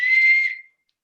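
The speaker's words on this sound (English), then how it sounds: "I printed this little whistle," A small 3D-printed plastic whistle gives a single shrill, steady blast lasting about half a second, loud and close, then quickly fades to silence.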